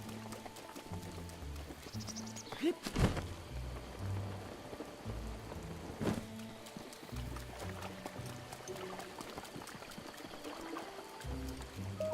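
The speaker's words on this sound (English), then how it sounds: "It's raining." Steady patter of rain in The Legend of Zelda: Breath of the Wild runs throughout with a couple of sharp thumps and scattered game tones over it, fairly loud and continuous.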